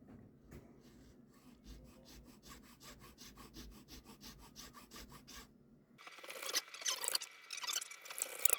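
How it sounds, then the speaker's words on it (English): Rapid rhythmic rasping of a small file scraping back and forth on wood, close up, marking slot positions on a guitar during a laminate headstock repair and refret, then a brighter, harsher scraping stretch toward the end. "I like to make an etching here where the slots are going to go with a smaller, much smaller file"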